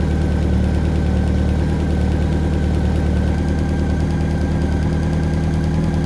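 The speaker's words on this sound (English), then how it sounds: "Shut the bike off, snap the throttle back, start it back up." Motorcycle engine idling steadily and loudly throughout while its carburetors are synced, a continuous close drone with a fine rapid pulse and no talk.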